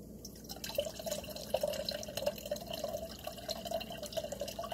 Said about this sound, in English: And then I just pour my tea.